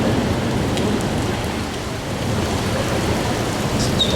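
Steady rain falling outdoors, a dense even hiss of drops hitting nearby surfaces that fills the whole stretch, with no one speaking.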